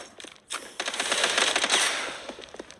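Rapid automatic gunfire strikes the player in the mobile shooter Bloodstrike Mobile, a short dense burst of close, sharp cracks that swells and fades over a couple of seconds.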